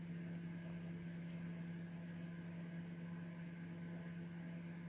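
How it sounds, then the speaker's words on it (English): A microwave oven heating a mug of tea gives a steady, close hum with a low mains drone that runs unbroken throughout, and nobody speaks. "Right, tea's in the microwave."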